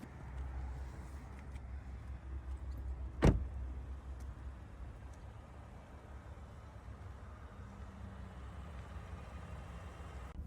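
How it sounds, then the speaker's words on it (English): A 2025 Cadillac XT6 Premium Luxury SUV pulls away, its steady low engine and road rumble filling the cabin, broken early by a single sharp click, with no one talking. "let's go ahead and take this Cadillac XT6 out for a spin."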